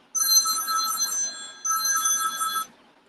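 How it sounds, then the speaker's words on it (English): A telephone rings twice in bright, trilling bursts, each about a second long with a short pause between, clear and close with no talk. "The God phone is ringing."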